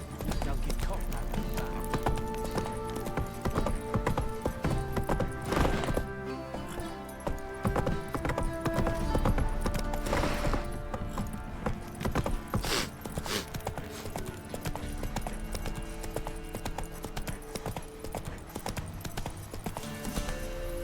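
A horse's hooves clip-clop steadily in The Witcher 3 video game as the rider gallops along, with a whinny and spoken dialogue layered over the rhythmic hoofbeats.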